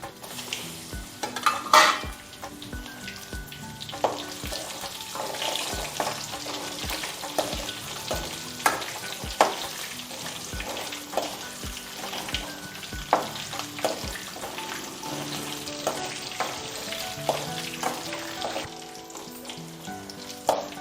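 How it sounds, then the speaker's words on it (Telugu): Tempering of dry red chillies, mustard seeds, urad dal and crushed garlic frying in oil in a pan for Andhra gongura pachadi, with steady close sizzling, scattered seed pops and intermittent metal spoon clinks against the pan, no talk. "అదే బాండీలో తిరమాత పెడుతున్నానండి. కొద్దిగా ఆయిల్ వేయాలి. 2 ఎండుమిరపకాయలు, ఆవాలు,"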